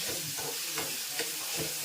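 Phodni, the spice tempering, goes into hot oil in a home kitchen. A loud, continuous sizzle and fry hiss sits up close, with faint stirring scrapes on top.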